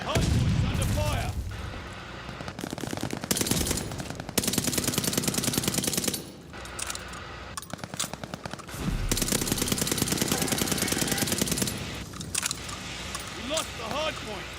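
Video game gunfire crackles in dense bursts of rapid machine-gun fire and heavy booms, broken by brief pauses, while people talk over it throughout.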